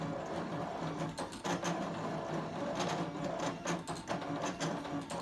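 A vinyl cutting machine cuts glitter heat transfer vinyl, giving a quiet, busy mechanical whirr with rapid ticking and stepping bursts as the blade carriage moves back and forth. No one speaks.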